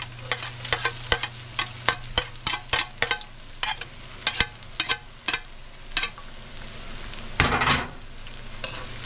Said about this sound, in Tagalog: Halu-haluin natin, antayin natin maluto.